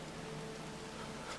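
Steady rain falls in Black Desert Online, an even, faint wash of hissing drops with no clear breaks and a soft low hum underneath.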